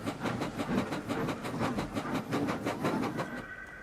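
A steam engine's train pulls into a large station, its wheels beating a steady clickety-clack over rail joints, loud and close, with the rhythm easing and fading toward the end.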